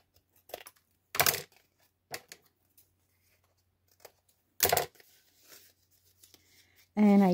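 Paper pieces for a handmade Christmas journal are snipped with scissors, giving a few sharp, isolated cuts close by, separated by quiet pauses, with a brief voice near the end.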